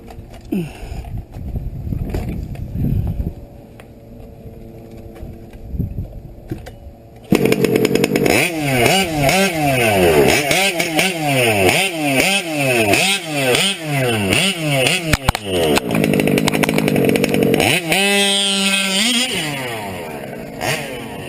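An RC car's gas engine, a modded TLR 5B with an OBR 34SS reed engine, sputters to life and then roars loudly nearby, repeatedly revving up and down in rising and falling bursts before a final high rev.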